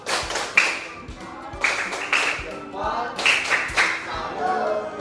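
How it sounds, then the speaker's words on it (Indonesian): A primary school class claps in a rhythmic pattern, bursts of several hand claps repeating every second or so, with people talking underneath. "Oke, benar, tepuk tangan dulu. Kita kasih tepuk salut."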